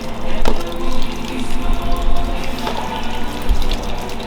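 Liquid pours steadily into a container while cooking, a loud, close, continuous splashing rush lasting a few seconds with no talk.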